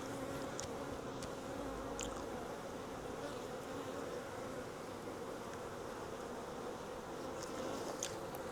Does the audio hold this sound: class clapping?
no